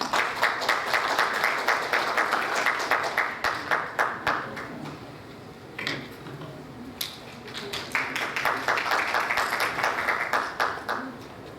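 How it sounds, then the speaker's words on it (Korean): A crowd at a Korean community advisory council ceremony in Atlanta claps to welcome a speaker, building into rhythmic, partly synchronized clapping with steady pulses, briefly thinning in the middle before swelling again, close and loud. "큰 박수로 모시겠습니다"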